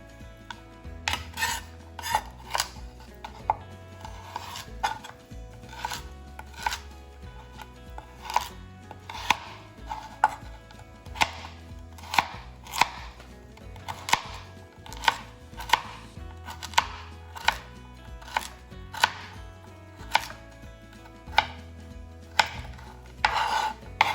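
Fresh celery chopped with a knife on a cutting board while making chicken pot pie with noodles, a long series of crisp, close, regular knife strikes with a steady rhythm and no talking.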